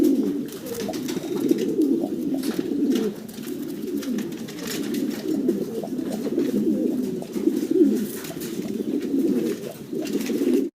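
Fancy pigeons on a farm cooing continuously, several birds with overlapping soft rolling coos, close and steady throughout.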